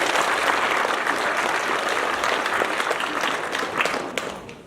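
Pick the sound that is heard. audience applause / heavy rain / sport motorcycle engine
audience applause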